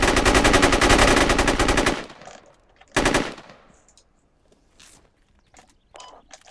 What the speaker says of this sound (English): Negative, we're taking heavy fire.